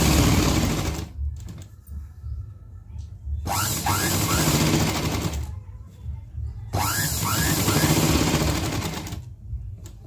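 A sewing machine stitches blouse lining backed with buckram, running in three loud, steady whirring bursts of a few seconds each, separated by short quieter pauses.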